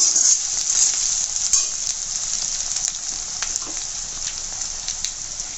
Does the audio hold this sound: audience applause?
no